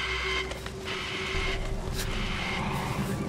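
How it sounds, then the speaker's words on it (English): A mechanical game sound from Resident Evil 8 resembling an old fax machine printing: a steady whirring, buzzing drone with a sustained tone and rhythmic scratchy pulses running throughout. "Sounds like a fax, old fax machine, like with the printer printing out."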